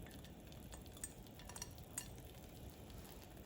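A spoon stirs mild cheddar into a pot of mac and cheese, with a soft, steady scraping and a few light clinks against the pot. The sound is faint and continuous, and no one speaks.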